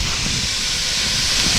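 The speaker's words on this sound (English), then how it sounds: "Sizzle, sizzle, sizzle." Loud, continuous sizzling hiss of food frying in a hot pan, steady and close, with no voices.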